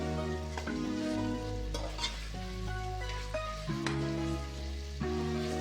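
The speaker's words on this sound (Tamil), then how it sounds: "இந்த எண்ணெயிலேயே தக்காளி வெங்காயத்தை நல்லா வதக்கி விட்டுக்கலாங்க" Tomatoes and onions sizzling in hot oil in a pan, a continuous close frying hiss with occasional stirring scrapes over a low hum.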